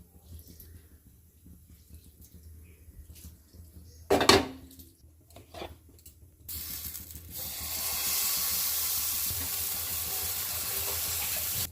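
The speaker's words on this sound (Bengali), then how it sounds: "ফ্রাই প্যান বসিয়ে দিচ্ছি। আমি একটু সামান্য তেল দিয়ে দিচ্ছি।" A frying pan set on a stove with a little oil: a clatter of cookware near the start, a sharp knock midway, then a steady bright sizzle of hot oil that holds to the end.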